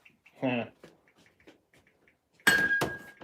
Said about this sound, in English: That's the bell to cut eggs.